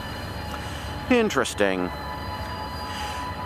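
Virginia Railway Express commuter trains back away from Manassas, a distant, steady rumble and hum running underneath while a person briefly says a single word.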